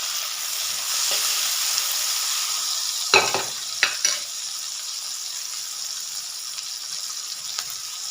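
Capsicum fries in a pan for Mexican rice, a steady moderate sizzle broken by a few sharp clattering stirs of the spoon near the middle.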